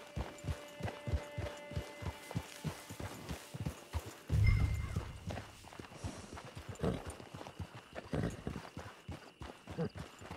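Horse hooves clip-clop in a steady walking rhythm throughout in the video game Red Dead Redemption Online, with a brief snort or whinny partway and faint tonal background music.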